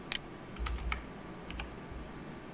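Keys tapped on a computer keyboard during design work, a short burst of quick clicks near the start, then a few scattered keystrokes, close and fairly quiet with no voices.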